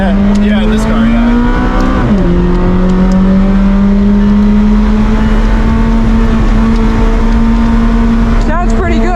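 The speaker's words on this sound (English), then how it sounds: "Sounds pretty good, huh?" McLaren 600LT supercar engine at Laguna Seca raceway, a loud continuous onboard drone rising steadily in pitch under acceleration, with a brief dip near two seconds as it shifts and a sharp rev burst near the end.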